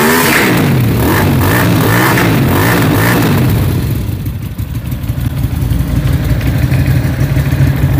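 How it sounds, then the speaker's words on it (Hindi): A Jonway 400 motorcycle engine sits at a steady idle, then is revved with the throttle into a rougher, louder run. The engine is close and loud, with no talk. "अगर इसको हम थ्रॉटल देते हैं तो कैसा साउंड आता है?"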